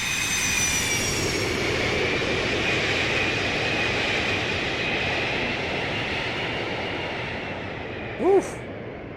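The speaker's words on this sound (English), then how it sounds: "Listen to those engines." Boeing 737-200 jet engines in a flight simulator game, a loud sustained roar with a whining high tone slowly fading, and a voice breaking in briefly near the end.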